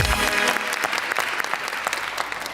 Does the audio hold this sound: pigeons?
no